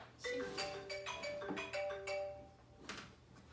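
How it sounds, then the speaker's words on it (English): A bright electronic phone ringtone chimes in a repeating melodic pattern of tonal notes, fairly loud and alone, with a brief pause before a final burst near the end. "I'm receiving a phone call from Aurora Borealis."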